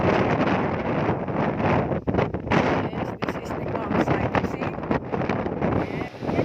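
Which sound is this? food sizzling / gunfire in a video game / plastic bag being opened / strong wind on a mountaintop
strong wind on a mountaintop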